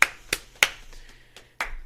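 Several sharp hand claps, close and fairly loud, spaced irregularly with short pauses between them, in an otherwise quiet room.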